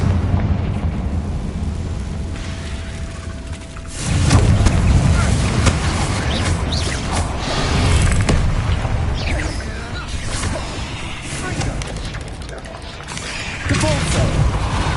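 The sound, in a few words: Confringo spell explosions in video game Hogwarts Legacy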